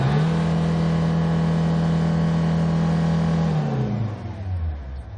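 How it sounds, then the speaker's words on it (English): A 2007 SsangYong Rexton II 2.7-litre 4WD SUV engine roars at high revs with a steady strong tone, then the pitch drops away as the engine winds down. "Let's try to accelerate and listen to the engine sound."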